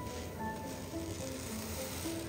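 Ingredients for a South Indian neimeen fish curry fry in a pan, giving off a steady, quiet, continuous sizzle and crackle with no one talking.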